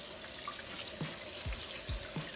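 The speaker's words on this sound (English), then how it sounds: "Run some cold water on them." Cold water runs from a kitchen tap over asparagus, cauliflower and broccoli in a colander, a steady close splashing stream with a few soft drips and gurgles, no voices.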